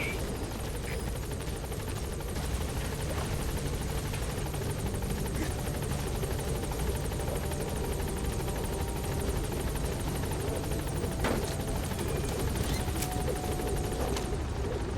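A helicopter holds at the landing zone in Metal Gear Solid V, its rotors beating in a constant, moderately quiet drone that carries on without a break, and no voices are heard.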